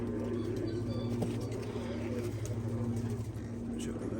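Pigeons or doves cooing in a bird enclosure, low repeated coos over a steady background hum with a faint voice nearby.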